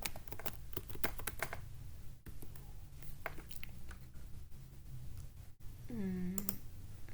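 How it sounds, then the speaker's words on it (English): An email address is typed on a computer keyboard, with faint, irregular clicking keystrokes at low level and a short speaking voice near the end. "type in your email and then click on next"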